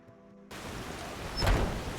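Rain falling in Skyrim: after a brief quiet moment a steady wash of rain noise comes in, swelling slightly louder toward the end.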